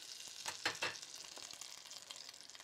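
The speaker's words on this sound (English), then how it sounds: "It's always difficult when you're frying or sautéing." Kansas fritters sizzle and crackle in a frying pan, a close, steady hiss with a few louder pops and stirring scrapes near the start.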